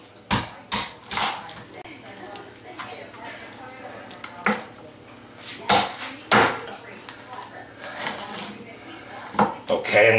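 A utility knife slicing down through a boned turkey on a kitchen board, giving a series of sharp irregular knocks and cutting thuds spread across the stretch, with faint kitchen background between strikes.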